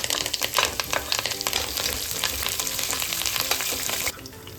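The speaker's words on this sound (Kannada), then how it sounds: "ಬೆಳ್ಳುಳ್ಳಿ ಹಸಿ ವಾಸನೆ ಹೋಗೋವರೆಗೂ ಚೆನ್ನಾಗಿ ಫ್ರೈ ಮಾಡೋಣ" Garlic sputters and fries in hot oil for capsicum rice, a loud, close, continuous crackle dense with sharp pops and spatter, easing slightly near the end.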